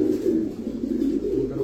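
Red European Toy Lahori pigeons coo up close in a low, rolling bubbling rhythm, several repeated coos running together at steady volume.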